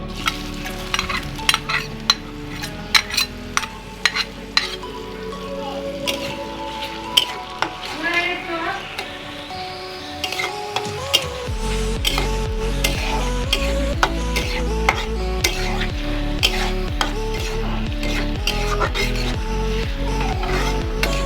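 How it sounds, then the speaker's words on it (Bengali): Chopped onion dropped into hot oil and frying, a loud steady sizzle rising partway through, with frequent clinks and scrapes of a utensil against the pan. "তেলের ভিতর আমি এখন পেঁয়াজ কুচিটা দিয়ে দিচ্ছি।"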